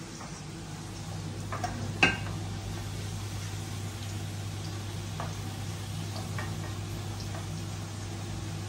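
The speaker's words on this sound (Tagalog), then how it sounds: "Nagigisa si amiga ng sibuyas at saka bawang" Onion and garlic are sautéed in a pan for kaldereta, a soft steady sizzle under a constant low hum, with a single clink of a utensil and faint scattered kitchen ticks.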